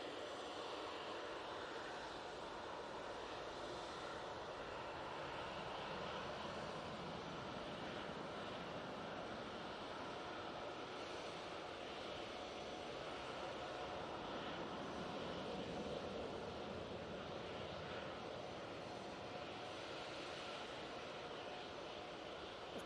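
Broadband jet engine roar from a Boeing 737-800 taking off at Manchester Airport, heard as a steady, loud wash of noise with no speech over it.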